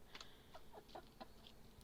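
Several chickens cluck softly nearby, a quick run of short clucks over faint background noise.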